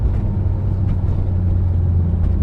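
A 1987 Porsche 911 Carrera Turbo engine pulling on the road, a steady, close, deep rumble from the cabin with little change in pitch and no voices.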